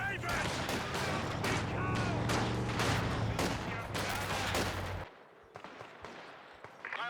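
Rapid bursts of G43 rifle fire crackle in a Company of Heroes 2 battle against German Grenadiers and Panzer Grenadiers, dense overlapping shots for five seconds before dropping to a few scattered distant pops.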